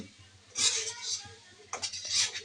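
A spoon scrapes and clinks around a wok holding mustard oil, garlic and bay leaf, two short bursts of metallic stirring separated by a quieter pause, close by.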